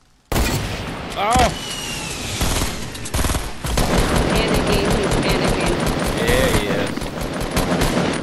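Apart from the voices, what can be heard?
explosions and gunfire in a video game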